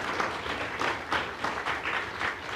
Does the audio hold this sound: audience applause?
yes